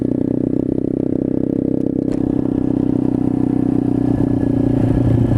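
A pit bike motorcycle engine drones loudly and steadily during a ride, a rough low hum with clattery buzz and slight pitch shifts as the rider eases on the throttle, with no speech.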